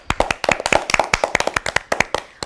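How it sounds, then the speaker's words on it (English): A classroom group claps together in a burst of sharp, overlapping hand claps, loud and steady for a couple of seconds with no talking over it. "Let us all clap for Purva."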